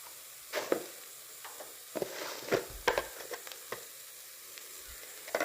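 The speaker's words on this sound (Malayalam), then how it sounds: "ഇതിനെ നന്നായിട്ടൊന്ന് ഇളക്കി യോജിപ്പിച്ച് കൊടുക്കാം" Coriander and turmeric powder are stirred into a mackerel curry base in a pan, giving a quiet, steady sizzle broken by a few soft scraping stirs, with no talking.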